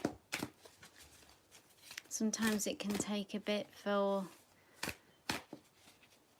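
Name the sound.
shuffling tarot cards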